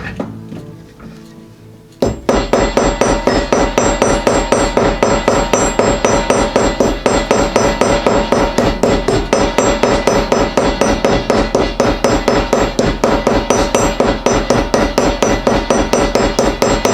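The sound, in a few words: hammering rivet on Hudson Bay axe leather sheath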